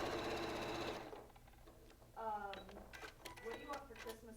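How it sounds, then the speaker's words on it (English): A sewing machine runs steadily while re-stitching a seam on a circle-pattern quilt, its close, loud whir stopping after about a second, then a voice talks over quieter handling and clicks. "Let's re-sew that seam."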